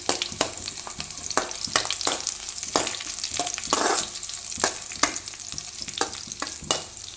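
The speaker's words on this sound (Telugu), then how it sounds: "అది కొంచెం వేగగానే ఉల్లిగడ్డ ముక్కలు కూడా వేసుకుందాము." Onion pieces sizzle steadily in hot oil in a pan for egg fried rice, with repeated sharp scraping strokes of a spatula stirring them at a brisk, uneven rhythm, close and fairly loud, no talking.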